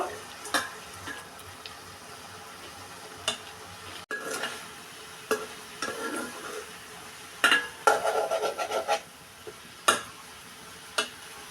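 Shrimp and yardlong beans are sautéed with salt, turmeric and chili, giving a quiet background sizzle broken by sharp metal spatula knocks and scrapes against the pan, with a rapid clattering burst near the end.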